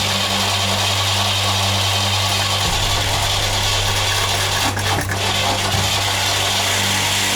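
A car engine idles roughly with a knocking fault and not firing on all cylinders, a loud, continuous low drone broken by irregular thumps and stumbles.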